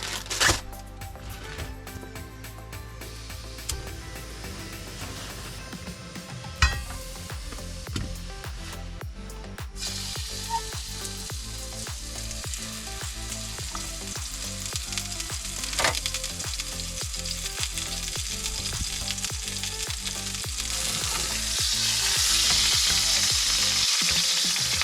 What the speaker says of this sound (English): We also want to chop some onion. Drop of oil in the pan.